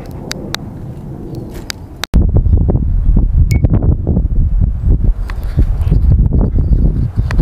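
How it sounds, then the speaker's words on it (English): Wind buffeting a microphone outdoors on a breezy day, starting with light ticking sounds, then a sudden loud, rumbling gusty roar that continues unevenly to the end. "Hope you can hear me through the wind."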